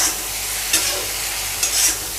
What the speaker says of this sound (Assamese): এতিয়া ইয়াতে মই আলু ফুলকবিখিনি দি দিলোঁ